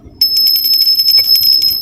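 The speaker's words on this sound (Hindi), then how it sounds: "ये घंटी अब की मैं लेके आई, मुंबा देवी से ये घंटी लेके आई" Puja hand bell from Mumba Devi rung continuously: a rapid, shimmering metallic tremolo with a bright sustained ring, close and loud, starting sharply and continuing to the end.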